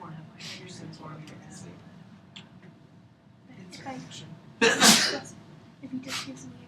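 A classroom setting with quiet talk and murmuring throughout, then one sharp, close sneeze cuts through near the middle, followed by a few more voices.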